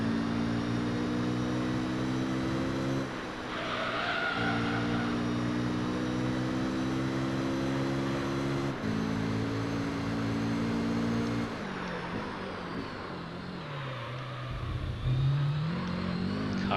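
A race car engine in Gran Turismo 3 drones steadily and loud throughout, its pitch climbing through gears with brief shifts and dips as the car brakes and accelerates through corners.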